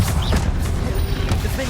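A Confringo fire spell is cast in Hogwarts Legacy during a busy duel, a dense blast of crackling, rumbling energy over steady low battle noise with other spell effects.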